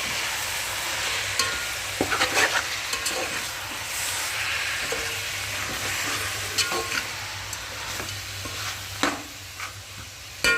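Chicken for biryani frying in a pan and being stirred, a continuous close sizzle broken by scraping spoon strokes, with no talk.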